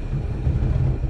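A 1977 Correct Craft Mustang, a 17-foot boat with a 302 Ford engine, idles with a steady close low rumble that stays even throughout, with no talk over it.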